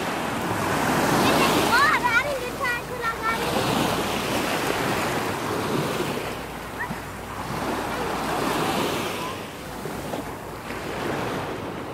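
Ocean surf washes and breaks continuously, with heavy wind buffeting the microphone and a few faint voices in the mix.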